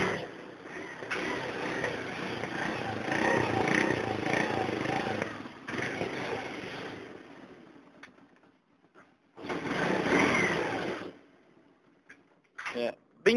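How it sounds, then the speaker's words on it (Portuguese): The stock exhaust of a Dafra Zig scooter runs close by with a steady buzzing engine drone, cuts out briefly, then returns for a short burst, with some talking around it. "primeiro eu vou mostrar para vocês o original, como que é o som dela"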